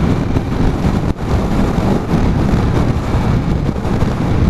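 Blustery wind roars steadily across the open top of the North York Moors during a ride on a Honda NT700 motorbike, a loud, continuous buffeting rush with one brief dip.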